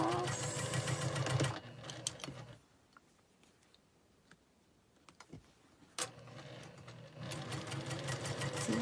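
A sewing machine runs close by in two bursts of rapid, steady mechanical stitching, sewing a nine patch quilt block seam, with a quiet pause between them.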